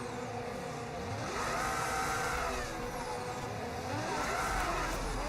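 An F1 race car in the F1 25 video game performs burnouts, the engine revving and wavering in repeated surges with tire noise, loud and continuous throughout, with no talking.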